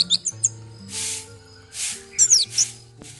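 Red anis (orange-headed thrush) calling in short, bright chirps and rising whistled notes, fairly close and clear, heard over low steady background tones.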